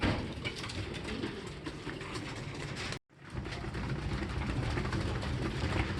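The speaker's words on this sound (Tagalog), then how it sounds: "So ayan mga tol, nakakain na yung mga ibon." Pigeons in a loft after feeding coo and rustle as a dense, low murmur under a constant background hiss, with a brief dropout midway before the soft cooing carries on.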